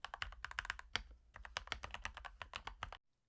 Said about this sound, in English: Now it sounds like this.